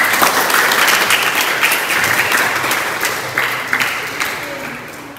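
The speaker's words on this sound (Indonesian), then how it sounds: "Boleh tepuk tangannya buat Mira." Audience applause at a Friday Islamic talk fills the room with loud, dense clapping that holds steady and then slowly tapers off, with no voices over it.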